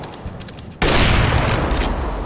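A single loud, booming rifle report from the AWP sniper rifle in Counter-Strike, abrupt and close, with a long ringing tail that fades slowly after the crack.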